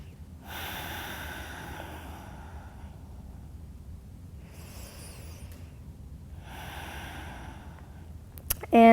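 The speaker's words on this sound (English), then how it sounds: "stay here for 2 breaths, in and out through the nose, breathing evenly" Slow, even breaths drawn in and out through the nose during a seated chair yoga pose, soft and close, with long airy swells separated by quiet pauses.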